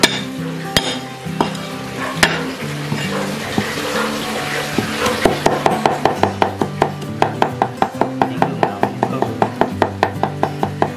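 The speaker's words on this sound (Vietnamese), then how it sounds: "anh Mạnh đập gừng cho vào." Ginger being crushed for a minced meat filling in a highland kitchen, with a few scattered knocks at first, then a fast, steady series of sharp pounding thuds over a background of sizzling.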